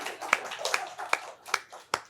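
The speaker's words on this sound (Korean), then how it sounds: "박수는 일단 쳐드립시다" Five sharp, evenly spaced claps ring out in a slow rhythm in a church, each crisp hit standing apart over a quiet room murmur.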